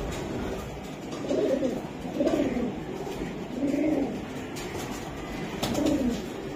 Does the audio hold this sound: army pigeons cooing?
yes